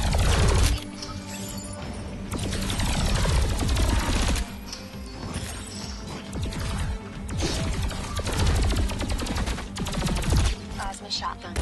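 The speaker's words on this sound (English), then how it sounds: "Plasma shotgun. Energy gun." Plasma shotgun and energy gun fire in the video game Alienation, a dense, loud barrage of rapid electronic blasts and impacts that runs almost nonstop, with a few brief dips between bursts.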